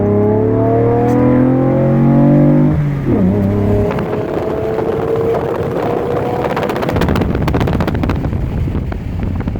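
A Chevrolet Camaro's exhaust roars hard and loud close by as the car accelerates, with rising revs giving way to a rough, raspy drone and buffeting wind noise.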